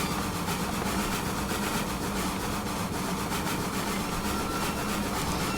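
A train rumbling along steadily in the video game Trainworks in Steam and Steel, with a continuous low engine drone and dense rolling noise, loud and unbroken throughout.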